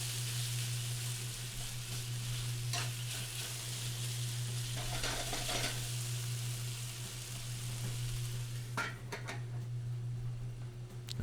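Beef and tomatoes fry in a pan with a steady, close sizzle, broken by a few scraping clatters as the food is tossed.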